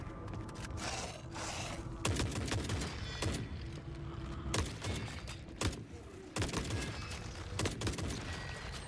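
Gunfire from a weapon in the video game Forever Winter, with repeated loud bursts and shots in uneven rhythm over a dense, noisy game soundscape.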